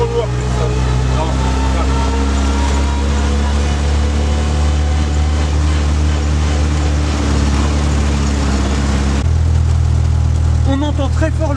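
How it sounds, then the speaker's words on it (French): A loud old Renault car engine drones steadily and close, its pitch shifting slightly near the end. "On entend très fort le moteur de la voiture"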